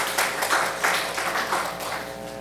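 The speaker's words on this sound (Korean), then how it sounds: "우리 감사의 박수 환영의 박수 하겠습니다" A church congregation gives a round of applause of thanks and welcome during a Sunday worship service, scattered clapping in several soft swells that gradually thin out, with faint voices underneath.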